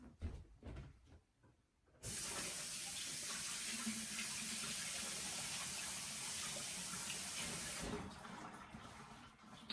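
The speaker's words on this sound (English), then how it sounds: "Wash my hands." Water gushes steadily from a tap while hands are washed, a loud broad hiss that starts abruptly after some brief clatter, runs evenly for several seconds, then cuts off.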